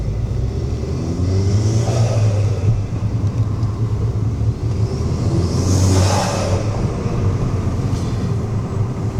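Intake noise from an Alfa Romeo Giulietta QV with the 1750TBI turbo engine under acceleration, a continuous loud rumbling whoosh that swells twice as the car pulls, with no voices over it.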